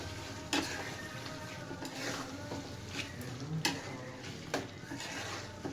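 Minced meat being stirred with cumin in a pan, a steady close sizzle of frying under scraping stirs with a few sharp clicks of a utensil against the pan.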